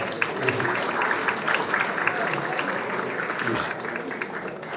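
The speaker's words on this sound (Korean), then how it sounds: "여러분 박수로 환영해 주시기 바랍니다" An audience applauds in welcome at the opening of the 62nd Broadcasting Day ceremony, a steady wash of clapping that holds for several seconds at a fairly loud level and thins slightly toward the end, with some voice-like sound mixed in.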